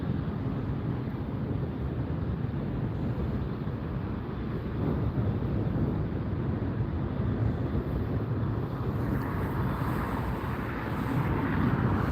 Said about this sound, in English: See the big Air France taxiing up as the Delta heads out.